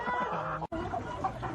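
Several chickens cluck nearby, a busy overlapping chatter of soft clucks with a brief break in the middle.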